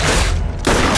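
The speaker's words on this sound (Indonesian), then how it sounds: "Saat rentetan peluru yang terus menghujani Atami" Sustained volley of gunfire in an action film as a hail of bullets rains down on a target, dense and loud, with a brief dip before the barrage surges back.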